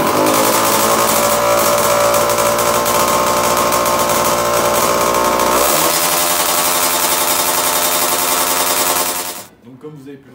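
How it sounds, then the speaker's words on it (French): A small 50cc motorcycle engine with an exhaust leak runs loud and close with a rough, popping rattle, shifting tone partway through before abruptly cutting off near the end. "c'est une moto qui démarre."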